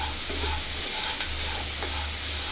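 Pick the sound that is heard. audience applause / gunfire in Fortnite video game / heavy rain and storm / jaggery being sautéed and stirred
jaggery being sautéed and stirred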